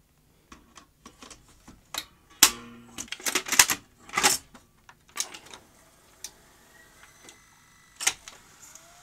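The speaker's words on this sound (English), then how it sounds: "Let's see if rewind is any better." Tape rewinding in a 1977 Philips N1700 video cassette recorder after its idler was cleaned, heard as a run of sharp mechanical clicks and rattling ticks, irregular and close, with brief whirring bursts and no voices.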